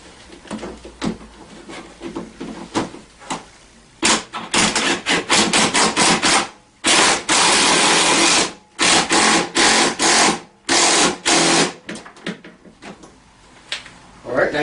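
Metal scooter steering column nut on a Tao Tao CY150A being tightened, loud bursts of ratcheting and clanking in repeated runs with short pauses between them.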